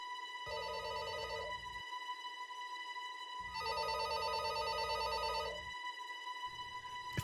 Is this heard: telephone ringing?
yes